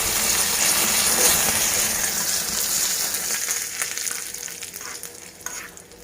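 Curry leaves dropped into hot oil while tempering a chutney give off a loud, close crackling sizzle that starts strong and slowly settles toward a softer hiss.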